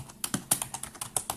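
Quick, light typing on a computer keyboard, a brisk irregular run of close key clicks with no voices.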